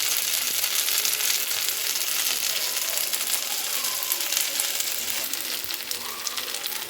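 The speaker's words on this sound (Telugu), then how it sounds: "చూడండి ఎంత మంచిగా ఫ్రై అవుతున్నాయండి" Motta fish frying in hot oil, a continuous dense sizzle with fine crackling throughout, steady and close with no talking.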